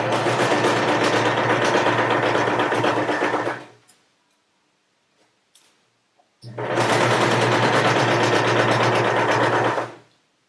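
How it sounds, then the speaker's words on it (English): Sewing machine stitching a simple fabric face covering, running in two long, steady bursts of loud, even whirring separated by a few seconds of near silence with faint handling clicks. "I'm going to sew all the way down from here to there, and then from here all the way down to there,"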